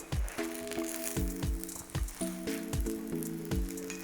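An egg topped with queso cheese sizzles softly in a pan as it finishes cooking, a steady faint fry with a few light taps and soft knocks from a utensil, close by.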